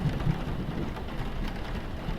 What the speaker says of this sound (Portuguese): Um trovão clareou o porão através das escotilhas de vidro, e logo depois os pingos de chuva foram ouvidos batendo no teto de madeira